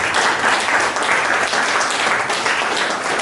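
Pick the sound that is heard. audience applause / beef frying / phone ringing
audience applause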